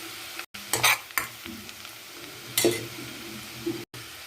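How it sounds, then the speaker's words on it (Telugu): Chopped onions frying in a pan for a broccoli dish, a steady close sizzle broken by a few sharp scraping stirs of a spatula against the pan. "కట్ చేసి పెట్టుకున్న ఆనియన్స్ కూడా యాడ్ చేసుకోవాలి. వీటిని ఈ విధంగా దూరగా వేయించుకోవాలి"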